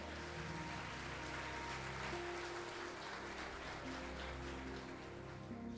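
A church congregation applauding during a Spanish-language sermon, a soft, continuous patter of many hands clapping at a distance, fairly faint and even, with sustained musical tones underneath.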